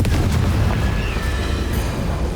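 Bombarda and Confringo spells detonate in quick succession in Hogwarts Legacy on Nintendo Switch, producing a heavy, sustained low rumble of explosions with sharp bursting hits, loud and close, with no voices.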